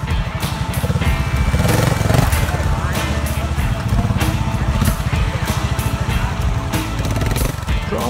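A trials motorcycle climbing obstacles, its engine revving hard and close in a steady rapid putter with throttle surges across the whole stretch.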